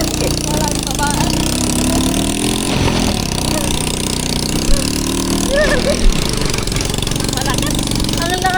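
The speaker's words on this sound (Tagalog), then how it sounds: "Ang lakas ng batak na tricycle mo, kuya" A motorized tricycle labors hard on a mountain ride near Mt. Mariglem, its engine droning loud and close with shifting pitch and a couple of sharp knocks, while riders talk over it.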